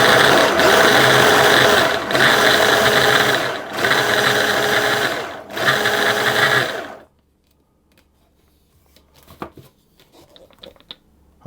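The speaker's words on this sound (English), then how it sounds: "So I'm just going to mix that until it forms a sort of a coarse breadcrumb-like texture." An electric mixer whirs loudly while working walnut tart pastry dough toward a coarse breadcrumb texture, running in several pulses with short breaks before cutting off, followed by quiet light clatter.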